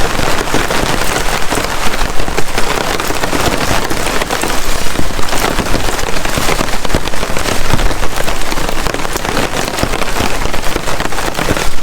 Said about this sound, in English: Wait for this rain to stop and I'll go and collect some firewood for later.